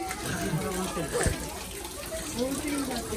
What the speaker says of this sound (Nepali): यो चाहिँ हाम्रा जुद्ध शमशेरले पृथ्वीनाथ शाह आउँदाखेरि बनाउनु भएको धाराहरू हो